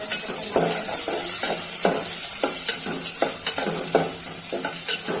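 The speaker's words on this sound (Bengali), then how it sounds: "পেঁয়াজ সাথে দিয়া দিচ্ছি একটা তেজপাতা" Onion and a bay leaf sizzle steadily in hot oil for lentil curry, with a spoon stirring and scraping the pan in a regular, repeated rhythm.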